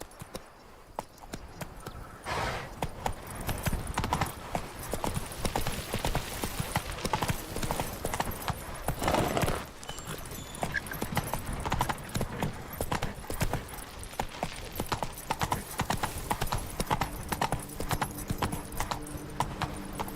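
Hoofbeats of the horse Roach galloping in The Witcher 3, a steady rapid clip-clop rhythm running throughout, loud and close with game ambience underneath.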